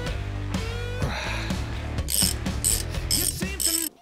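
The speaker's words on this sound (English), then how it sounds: "Now I'm just going to take the discs off." A ratchet clicks rapidly and repeatedly while brake discs are unbolted from the front wheel of a 2008 Suzuki GSX-R1000, in several close, loud bursts of ratcheting.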